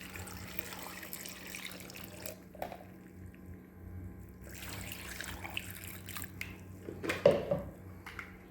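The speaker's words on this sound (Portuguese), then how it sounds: "A gente coloca metade da água." Water is poured into a blender jar for a homemade potato plastic chemistry experiment, faint splashing and trickling in short bursts, with a stronger pour near the end, in a quiet room.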